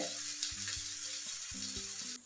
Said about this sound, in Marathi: हा तयार केलेला पराठा यावर टाकून आपण शेकून घ्यायचा